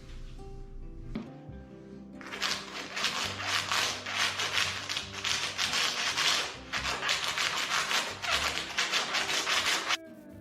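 A razor blade scrapes epoxy off a concrete countertop in quick, rasping strokes, loud and close, after a few soft knocks at the start, with no voices.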